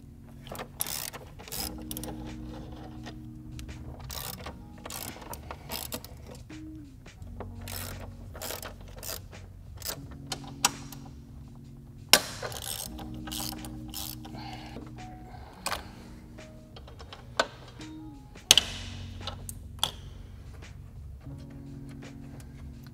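A ratchet loosens inverted Torx E20 bolts on the strut tower brace of a BMW B58 3.0L engine bay: bursts of quick metallic clicking with sharp knocks and pauses between strokes, close and fairly quiet.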